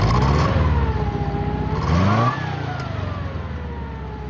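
A Nissan Z with an older, oil-leaking engine revs loudly and close, its pitch climbing and falling in a couple of rising pulls before settling into a lower running note.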